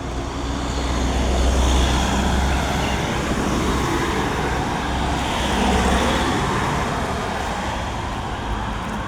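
Dense road traffic in Chanthaburi, with many cars giving a steady, continuous roar of engines and tyres close by, swelling slightly now and then, no voices.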